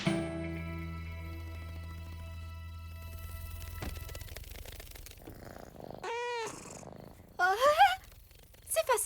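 A kitten purrs in an animated cartoon, a low steady rumble lasting several seconds near the start, followed by brief bright cartoon sound effects.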